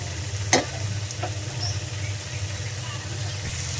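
Pointed gourd and vegetables fry in a pan for a potol dorma, giving a steady close sizzle with a couple of brief stirring scrapes; no one speaks.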